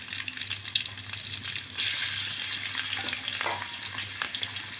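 Chopped ginger and two green chilies fry in a hot pan of oil, a steady close sizzle that swells louder partway through, with faint stirring and no talk.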